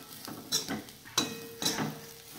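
Bitter gourd vegetable being stirred in a pan, with a few scraping strokes and faint sizzling close by, no talk.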